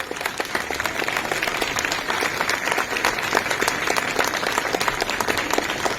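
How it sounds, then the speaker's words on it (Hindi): A church congregation claps loudly and steadily at a Christmas celebration, a dense wash of applause that holds at full strength from start to finish with no voices breaking through. "क्या हम जोरदार ताली बजा सकते हैं?"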